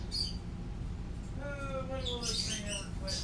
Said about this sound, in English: What's with the chirping? Oh, there are birds in the other room.